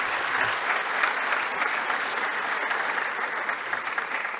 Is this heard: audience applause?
yes